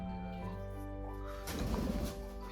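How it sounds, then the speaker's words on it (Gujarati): Pigeons coo softly at first, then a burst of fluttering wingbeats as a bird takes off nearby, fairly loud and brief. "કબૂતર ઉડ્યું"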